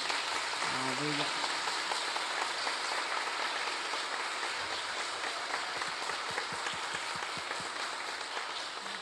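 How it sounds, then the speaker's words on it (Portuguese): Warm applause from a church congregation during a Catholic Mass for Holy Trinity Sunday, a continuous, fairly soft patter of many hands under the room's reverberation, with a brief murmur of voices near the start. "receba aí uma calorosa salva de palmas da nossa comunidade"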